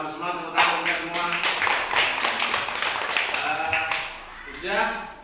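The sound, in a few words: children clapping hands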